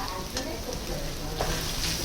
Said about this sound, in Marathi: आता हा भात छान मिक्स करून घ्यायचा